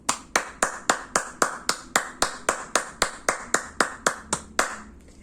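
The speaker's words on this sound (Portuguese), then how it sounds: "Quem gostou, bate palmas." Clapping after a children's story reading: about fifteen sharp, evenly spaced claps at a steady, brisk beat, close and clear with no talking.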